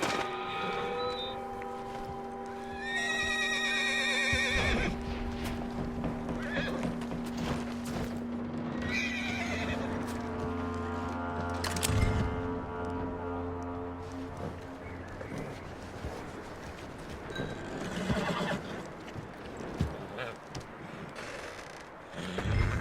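A horse whinnies and snorts over a dense bed of layered music and ambience, with hoof clops and creaking scattered throughout; no talking. From the video game Red Dead Redemption 2.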